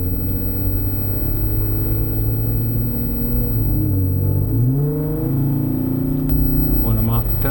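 A Jeep JK fitted with an AFE Mach Force-XP exhaust pulls away smoothly, its engine note rising steadily through a gear with a deep, even drone and no breaks, heard from inside the cabin.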